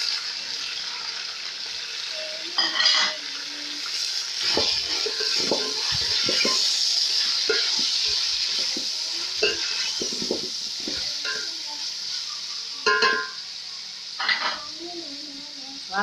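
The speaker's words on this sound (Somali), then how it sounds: "basashii iyo yaanyadii hal mar baan ku shubayaa hilibkana wuu shiilmo uu gaduuto" Meat sizzles in a pot with carrots, onions and tomatoes for a Somali pasta sauce, a steady close frying hiss broken by repeated scrapes and clinks of a spoon stirring against the metal, with brief speech.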